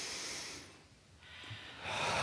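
One slow, audible breath drawn in and let out through the nose at a health talk, soft and close, alone without speech.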